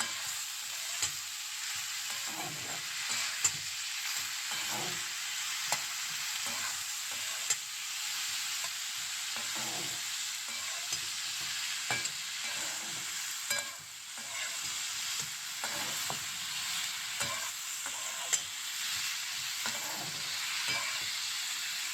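Stir-frying in a pan, with green chili added to a mung dal and cucumber dish; a steady bright sizzle runs throughout, broken by frequent soft scraping stirs, with no talking.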